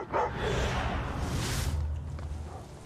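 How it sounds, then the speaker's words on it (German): Dogs bark in the video game Thief, a few sharp barks over a noisy game soundscape with a rushing swell partway through. "Warum haben die Hunde auf dem Balkon?"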